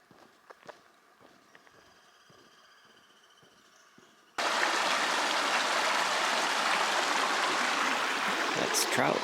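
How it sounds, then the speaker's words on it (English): Trout Lake Creek rushes along on the Pacific Crest Trail, starting abruptly as a loud, steady broadband roar of flowing water after quiet footsteps and rustling on the trail. "That's Trout Lake Creek."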